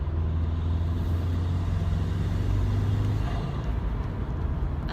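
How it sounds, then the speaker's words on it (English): Other cars and heavy vehicles drive by on a road, a loud continuous low rumble of engines and tires with a swell in the middle that eases near the end, no talking. "you can hear every other car but mine."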